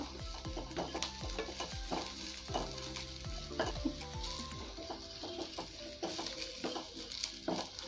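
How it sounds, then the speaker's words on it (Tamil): Fennel seeds, cinnamon and cloves fry in hot oil, a busy crackling sizzle with repeated metallic knocks and scrapes of a spoon against the pan, heard fairly quietly and without speech. "இப்போ நம்ம சோம்பு, பட்டை, கிராம்பு ஆட் பண்ணிடலாம். இது வந்துட்டு ஒரு 1 மினிட் போல் ஃப்ரை பண்ணிக்கோங்க."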